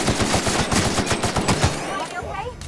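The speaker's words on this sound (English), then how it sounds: "Returning fire!" Rapid automatic gunfire in the sci-fi shooter game The Outer Worlds, a dense, loud, continuous stream of shots for about two seconds before thinning into scattered trailing blasts.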